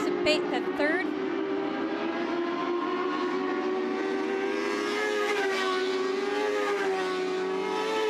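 Dirt track race cars roar in a sustained, loud drone at Southern Ontario Motor Speedway as two cars run side by side, engine pitch rising and falling steadily while a voice speaks over the noise.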